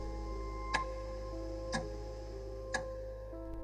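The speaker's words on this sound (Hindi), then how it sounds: "लेकिन तभी ढाबे की घड़ी ने 12 बजाए।" A wall clock in a roadside dhaba at midnight, used as a horror-story sound effect: three evenly spaced sharp ticks about a second apart over a low steady hum.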